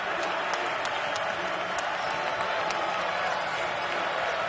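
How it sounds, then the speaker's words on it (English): A college basketball crowd at the Moody Center during a Texas versus Houston game keeps up a steady roar of cheering and clapping, dense and continuous, with a commentator's voice faintly under it. "Crowd has been alive here at the Moody Center."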